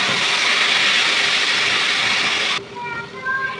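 Cabbage and onions frying in a pan in a home kitchen give a loud, steady broadband sizzle that cuts off abruptly near the end, leaving a quieter hiss with faint clinks.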